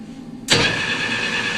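A metal lathe's chuck spins up to about 395 RPM in low speed: an abrupt motor start followed by a steady whirring hum with a thin whine, close and moderately loud.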